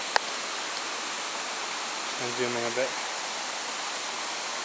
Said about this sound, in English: as you may hear, we also have a really nice waterfall